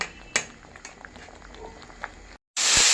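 Moong dal boiling in a pot while being mashed down for a vegetable dal, a steady close bubbling patter with a sharper knock near the start and a brief gap followed by a louder burst of noise at the end.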